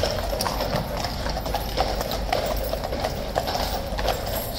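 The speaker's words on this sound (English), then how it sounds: "Here comes the lead horse with the Royal Standard." Hooves of King's Guard horses clip-clop steadily on pavement at Horse Guards in London, a lead horse carrying the Royal Standard among them, with a continuous rhythmic clatter over crowd murmur and faint voices.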